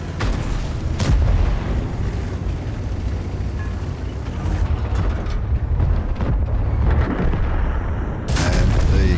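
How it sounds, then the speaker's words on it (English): Tank cannon fire in World of Tanks from a VK72.01(K) German heavy tank, loud booming blasts over a constant rumbling engine bed, with one strong hit near the start and more bursts later, no speech. "He shoots and misses the grill."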